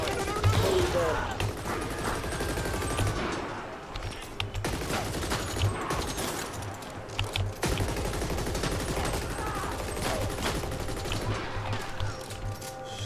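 Rapid gunfire from a shooter video game, bursts of automatic fire and scattered shots rattling almost continuously, loud and close, with a few brief pauses between volleys.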